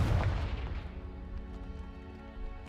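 A Confringo fire spell detonates in the Hogwarts video game, a loud booming blast at the start that rolls into a long ringing, tonal decay with faint crackles, no voices over it.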